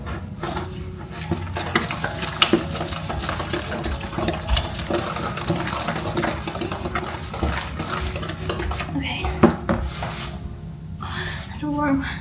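Cookie dough being stirred by hand in a bowl, with steady scraping and clinking of a utensil against the bowl close up, and a sharper knock near the end; voices speak over parts of it.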